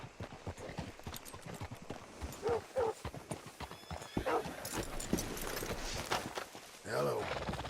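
Horse hooves clip-clop steadily in Red Dead Redemption 2, with faint snorts and other game sounds in the background, and voices talking over them.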